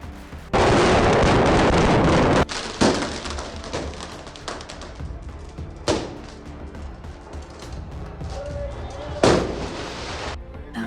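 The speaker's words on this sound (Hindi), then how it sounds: "एक गली में पटाखों की ही आवाज गूंज रही है।" Firecrackers bursting in the narrow streets of Menar village during a festival, a long crackling barrage at the start followed by scattered sharp bangs and another loud burst near the end, with crowd noise beneath.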